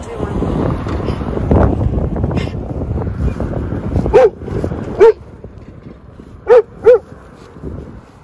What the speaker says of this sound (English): Unexpected dog drama.